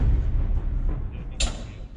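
A heavy artillery boom rolls in as a deep, rumbling roar, distant and sustained, with a brief sharper crack partway through, heard from a frontline position in Ukraine.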